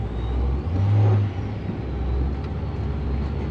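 A car fitted with a ProCharger centrifugal supercharger, its engine turning over and settling into a low steady rumble with a brief swell near the start, close and without talk.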